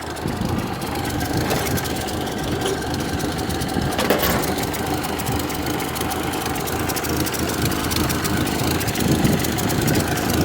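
An old 1929 Ford AA tow truck engine idles close by with a steady, rough, rapid chugging and a few brief bumps in the mechanical clatter, no voices over it.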